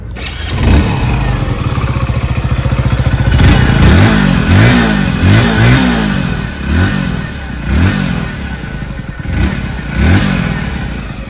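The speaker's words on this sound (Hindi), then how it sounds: "दोस्तों मैं आपको इस बाइक का एग्जॉस्ट नोट सुना दे।" A 2023 Hero Splendor motorcycle idles with a steady putter, then its engine is revved in a series of short, repeated throttle blips that rise and fall, close and loud with no talking.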